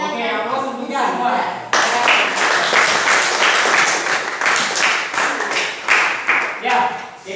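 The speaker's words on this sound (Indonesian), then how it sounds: "Oke, aplaus untuk kita semua." A class bursts into applause, loud and sustained clapping from many hands that starts abruptly and continues for several seconds, with voices talking before and near the end.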